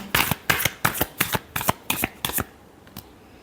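Tarot cards being shuffled during a reading, about eight crisp riffling bursts in a steady rhythm, close and fairly loud, then a brief quiet tail with no talk.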